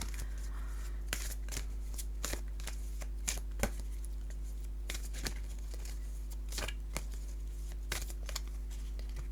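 Tarot cards being shuffled by hand, a steady run of crisp riffling clicks and flutters in irregular bursts, close and clear over a low constant hum, with no voices.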